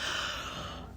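A single soft yawn, a breathy drawn-out exhale lasting about a second, close to the microphone and fairly quiet.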